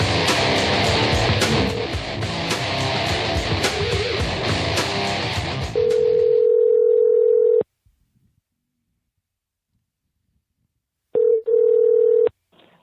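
An outgoing internet phone call over Skype rings out: a busy burst of other audio gives way to a loud, steady ringback tone that sounds twice, separated by silence.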